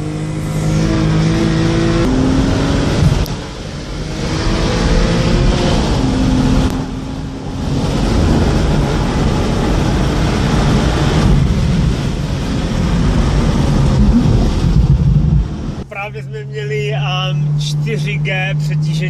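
A Porsche Carrera accelerates hard with its engine revving through rising gear sweeps, loud and close from inside the car, with people talking over the roar.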